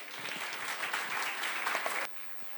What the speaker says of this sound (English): Let us give them a huge, huge round of applause.